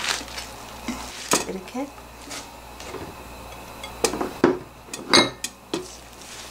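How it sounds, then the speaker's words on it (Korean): A knife cuts half a bunch of Korean chives (buchu) into 5–6 cm lengths on a cutting board, giving several sharp, irregular knocks over a low kitchen background, with a short bit of speech. "부추가 좀, 이건 제일 마지막에 넣지만 지금 썰어 놓겠습니다."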